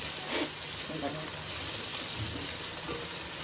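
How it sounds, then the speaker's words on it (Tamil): Mutton fries with tomato and onion in a pan, a dense continuous hiss and sizzle held at an even level throughout, close and steady. "மட்டனுக்கு தக்காளி வெங்காயம் போட்டு ஃப்ரை பண்ணிட்டு இருக்கேன்"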